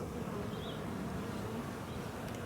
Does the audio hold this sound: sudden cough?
no